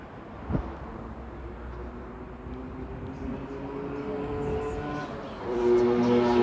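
A steady low rumble builds as a Singapore Bukit Panjang LRT light rail train rolls past, with rising metallic tonal whine and hum growing louder toward the end.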